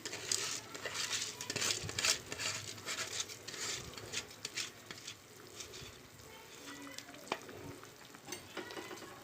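Basmati rice stirred through a biryani pot with meal maker and eggs, a steady soft patter and scrape of a spoon against the pan over a faint sizzle, close and continuous with no talking.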